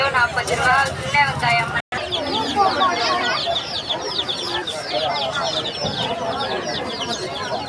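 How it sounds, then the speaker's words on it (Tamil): A crowd of ducks, pigeons and other fowl call and chatter loudly and continuously, close by, at an animal market in Ponmalai, with people talking over the noise. "வாத்து, இதெல்லாம் வாத்து."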